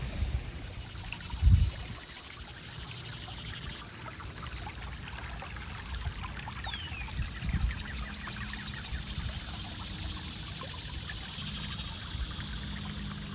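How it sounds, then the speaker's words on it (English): Water trickles and gurgles steadily in a small river outdoors, a soft continuous flow with a few brief louder splashes near the start, heard without talk. "And this is a little river."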